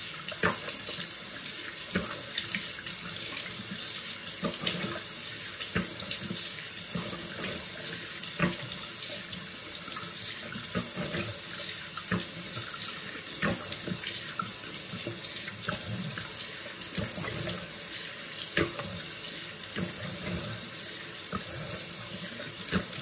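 Tap water runs steadily into a sink while a face mask is rinsed off, a continuous close splashing stream with small irregular spatters throughout, no talking.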